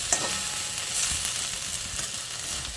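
A spoon stirs susni greens dressed with raw mustard oil in a pan, giving a steady soft sizzle and scraping that runs unbroken, close and moderately loud, with no voices.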